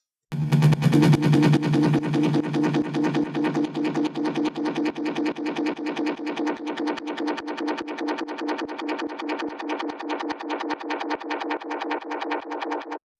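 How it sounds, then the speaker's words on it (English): A synth loop smeared through a long feedback delay, echoes piling into a dense, steady pulsing wash that holds for over ten seconds, then cuts off. "it's basically just a really long delay"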